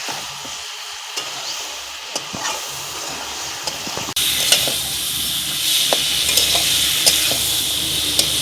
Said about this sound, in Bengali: মশলার সাথে মাছের মাথা খুব ভালো করে কষিয়ে নেব।